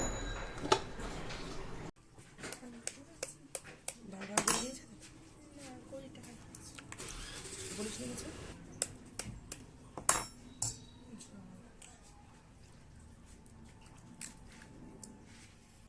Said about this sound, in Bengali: এই সমস্তগুলোকে একসাথে এবার মিশিয়ে নেব।